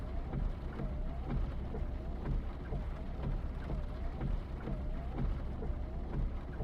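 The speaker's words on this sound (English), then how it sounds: "Sure is raining hard." Steady heavy rainfall in the video game Final Fantasy 7 hisses throughout, with a constant low rumble beneath it and no voices.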